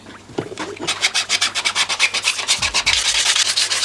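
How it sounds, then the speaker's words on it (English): Someone lightly sands a 3D-printed plastic boat hull by hand, with close, rhythmic back-and-forth rasping strokes about four per second, plus a few soft handling knocks. "Just doing a bit of light sanding."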